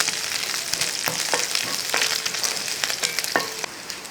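Dried red chillies go into the pan with chopped garlic for Onam inji curry, a loud close sizzle broken by sharp scraping strokes of a spoon stirring everything together.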